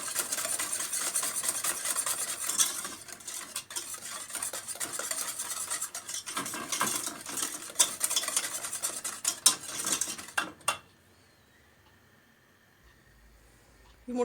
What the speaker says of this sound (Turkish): Şeker iyice eriyene, köpük köpük olana kadar sıcak suyun üstünde çırpıyoruz.